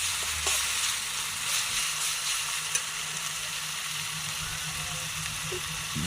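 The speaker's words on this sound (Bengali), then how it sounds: "2 মিনিট এভাবে কষে নেওয়ার পর" Mutton browning with ginger paste in a pan crackles and sizzles continuously, with occasional faint clicks and scrapes of stirring.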